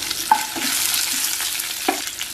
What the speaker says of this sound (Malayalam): വറ്റൽമുളകും കറിവേപ്പിലും ഇട്ട് കൊടുക്കുക.